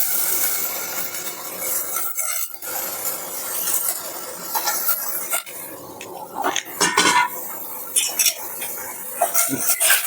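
Ghee and fresh cheese are mixed in a pan with a spoon, giving irregular metallic scrapes and clanks over a faint sizzle, louder bursts toward the end.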